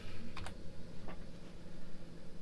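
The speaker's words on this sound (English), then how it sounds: "So I'm typing in there Form" A few soft, scattered computer keyboard clicks over a quiet room hum, typing at an uneven pace with no talking.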